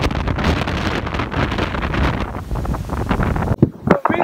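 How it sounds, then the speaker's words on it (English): Strong crosswind buffets the microphone on a scenic hilltop stop during a KTM Duke 390 motorcycle ride to Ooty, a loud continuous roaring rumble with gusty swells and a few sharp drops near the end. "Look at this wind, man. This very strong crosswinds."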